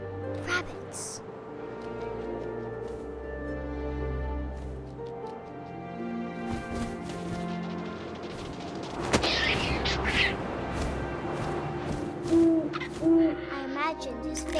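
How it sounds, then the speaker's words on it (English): An owl hoots in the video game What Remains of Edith Finch, with deep, repeated calls rising over a low wind-like game ambience and a narrating voice. "And suddenly, I was an owl."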